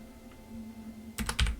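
A short burst of quick keystrokes on a computer keyboard, several close taps clustered together after a quiet stretch with a steady low hum underneath, fairly faint and close.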